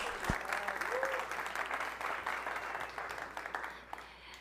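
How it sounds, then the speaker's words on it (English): A conference audience on the river stage at Devcon VI in Bogotá applauds a speaker, with steady, moderately distant clapping that carries on throughout and tapers slightly toward the end. "Please give an applause for Soy Vera"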